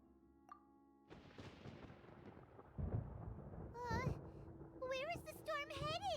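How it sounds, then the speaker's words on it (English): Thunder in the video game Genshin Impact rolls in with a sudden deep, rumbling crack that keeps growling loudly across the scene, with character voices and game sounds layered over it. "Paimon hears thunder!"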